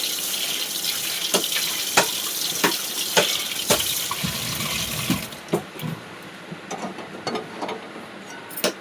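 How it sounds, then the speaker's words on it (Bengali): A wok washed in a home kitchen under a running tap: water gushes steadily, broken by sharp metallic knocks and clinks as the pan is handled, and the flow thins to splashes and drips near the end. "এবার কড়াইটা ধুয়ে নেব"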